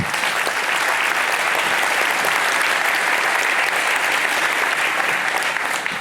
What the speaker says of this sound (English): Just give him one more round of applause, please.